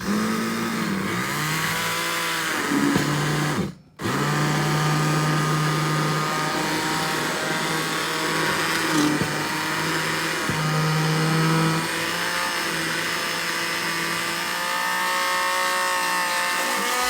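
A blender whirs steadily while mixing angel cake ingredients, loud and continuous with a motor whine that shifts pitch as the load changes, briefly cutting out once before resuming.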